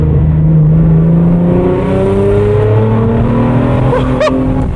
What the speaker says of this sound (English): drive like a GTR should be driven